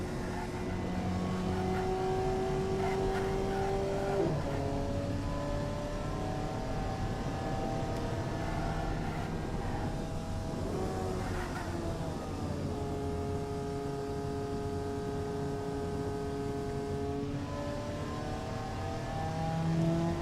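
A low-powered, roughly 45-horsepower economy car engine in the Automation game, droning steadily and loud with harmonic pitch climbing through the gears, several rising sweeps broken by shift drops, continuous with no talking.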